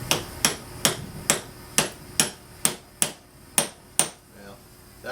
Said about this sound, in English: just knock that in with the hammer a little bit more